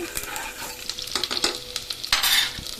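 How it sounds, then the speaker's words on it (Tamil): Cumin, ajwain and fenugreek seeds are stirred briefly in a hot pan for a Tirunelveli-style rice dish, giving a close, steady sizzle with scraping spoon strokes and a louder crackling burst near the end. "லைட்டாக தான் கிண்டணும், ரொம்ப நேரம் கிண்ட தேவையே இல்லை."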